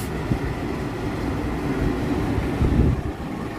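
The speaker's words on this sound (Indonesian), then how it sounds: "Lokomotif kontainer" A low, steady rumble rolls on as a container train's locomotive passes through a railway station, heard from fairly close without any talk.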